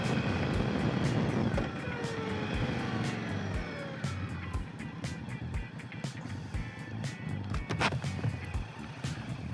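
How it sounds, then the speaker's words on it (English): Bagger motorcycle engine heard from the saddle while riding, a loud rumbling exhaust that rises and falls through gear changes, with wind rush and a few sharp knocks. "I'll give you a better idea of what this engine's got here once I get around this corner."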